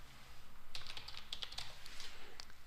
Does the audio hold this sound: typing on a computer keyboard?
yes